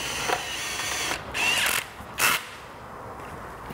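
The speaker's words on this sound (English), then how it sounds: "Kind of cheat, use a power driver, kind of just get it lined up." Power driver tightening bolts on a Piaggio BV350 scooter, a close whirring hum that rises in two or three short bursts, with no voices.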